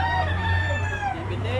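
A bullstag rooster gives a loud, drawn-out crow close by, the call sliding and fading toward the end.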